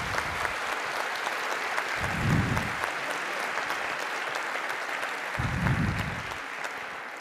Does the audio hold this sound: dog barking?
no